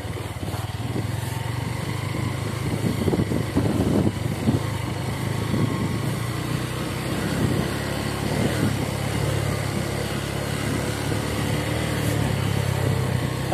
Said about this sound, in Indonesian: Motor saya ini kelasnya kelas city bike ya teman-teman.